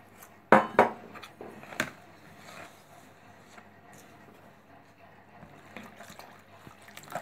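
Faint trickling and sloshing of water into a bowl of rava dosa batter with a few sharp clinks of a utensil, followed by quiet stirring.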